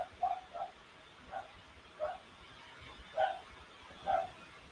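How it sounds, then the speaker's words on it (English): Dogs barking indoors at home as someone arrives at the door: about six short, separate barks or yips at fairly even intervals, moderately loud over a quiet background. "I apologize if you hear my dogs."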